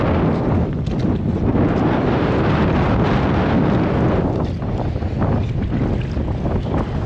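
Strong wind gusts across a beach by the sea, roaring steadily and loudly into the microphone with a dense, unbroken rush that swells and dips slightly, and no voices are heard.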